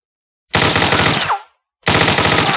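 A fully automatic machine gun from a modern weapon pack in Fallout 4 fires two loud, close bursts of rapid shots, each about a second long, separated by a short silence.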